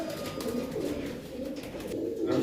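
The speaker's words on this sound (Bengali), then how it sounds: "এই দেখুন পায়রা দেখুন" Pigeons in a loft holding homers and other fancy breeds coo and murmur in a soft, steady low throb that runs the whole time, with no talk over it.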